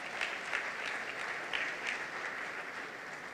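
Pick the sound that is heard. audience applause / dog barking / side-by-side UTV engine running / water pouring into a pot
audience applause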